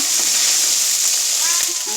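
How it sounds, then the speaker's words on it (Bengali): Small fish fry in a little oil in a pan, a constant close sizzle with faint crackles and brief soft voices. "এই দেখো চুনো মাছ ভাজা বসিয়েছি"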